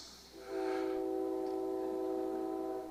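A storyteller at a storytelling festival imitates a passing train with his voice, giving one sustained, tonal whistle-like hoot that swells and holds for about two seconds at moderate volume.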